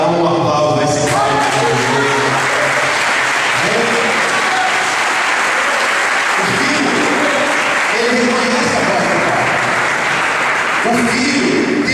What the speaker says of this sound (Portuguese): Se for verdade, dá um aplauso a esse pai